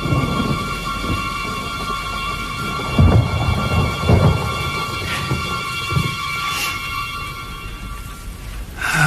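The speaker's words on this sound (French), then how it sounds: "un orage est beaucoup plus effrayant quand il s'éloigne" A thunderstorm with steady rain and low rumbling thunder, several heavier rolls swelling around the middle of the stretch over a constant hiss of falling rain, with no voices.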